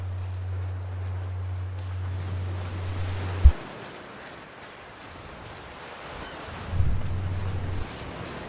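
Ocean waves in the video game A Plague Tale: Requiem, a continuous wash of surf and wind with a dull thump partway through and a low hum fading in and out.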